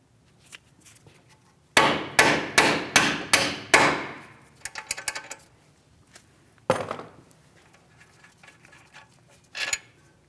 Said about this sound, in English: This is where I'm going to tap against. We're driving this straight out towards the front.